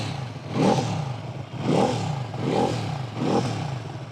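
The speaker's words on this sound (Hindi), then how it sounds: "अब एक बार थ्रॉटल देता हूँ।" A 300cc V-twin cruiser motorcycle with a wide-mouthed silencer revs under repeated throttle blips, four rising bassy bursts roughly a second apart, close and fairly loud with no talk.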